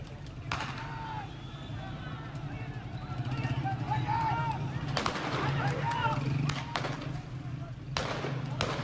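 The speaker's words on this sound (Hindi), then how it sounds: "प्रदर्शनकारियों पर सीधी फायरिंग करते हुए दिखे सुरक्षाकर्मी" Security forces fire on protesters at a street demonstration, with sharp gunshots cracking out at intervals over a loud, continuous crowd of shouting voices and running footsteps.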